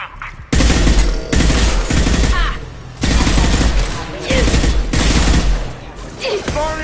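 Heavy automatic gunfire from a Mass Effect 2 firefight, loud sustained bursts with brief breaks and distorted shouts mixed into the barrage.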